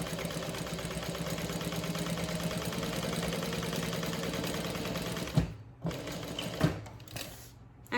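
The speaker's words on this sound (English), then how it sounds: "So let's top stitch that inner one first." A sewing machine runs steadily and close up while top stitching a handbag, giving a continuous fast mechanical whir. It stops abruptly near the end, followed by a few short bursts and handling clicks.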